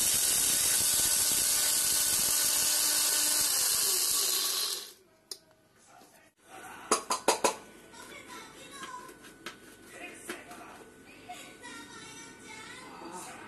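A kitchen mixer grinder coarsely grinds pepper, cumin and garlic cloves with a loud, steady whirring roar for about five seconds. It then cuts off abruptly, leaving scattered clicks and clatters of handling.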